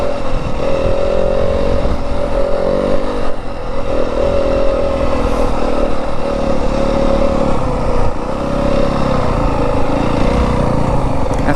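A 2025 Yamaha WR250F dirt bike drones loud and close in first gear through the Arizona desert, its engine holding a steady buzzing tone with slight swells in revs and no voices.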